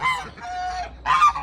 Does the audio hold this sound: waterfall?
no